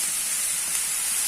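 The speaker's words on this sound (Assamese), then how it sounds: "এইটো মাংস এতিয়া মই পানী দিম, বহুত নিদিওঁ, অলপ পানী দিম," A little water poured into hot chicken curry meat in a pan gives a brief, continuous steamy hiss and sizzle at moderate level, with no other sound.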